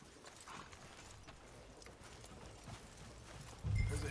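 Horse hooves clop faintly at a walk in Red Dead Redemption 2, soft and steady over quiet background sound, ending with a louder low thump.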